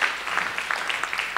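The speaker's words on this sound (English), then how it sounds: "I would give another round of applause to the performers for their awesome, powerful artwork tonight." Brief burst of audience clapping for performers at an evening arts event, a short fast patter of hands with no talking.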